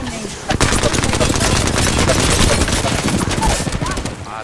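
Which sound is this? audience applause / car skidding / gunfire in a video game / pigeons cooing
gunfire in a video game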